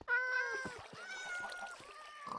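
Several cats meow in the Minecraft video game, overlapping tonal cries with a strong opening meow and further calls through the clip, loud and close, with no talking.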